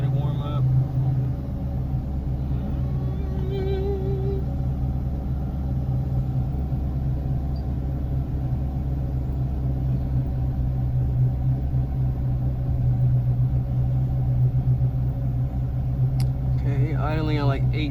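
A 5.7 Hemi V8 with a stage 2 cam idles just after startup, giving a steady, loud, low rumble for about eighteen seconds. A voice comes in briefly near the end.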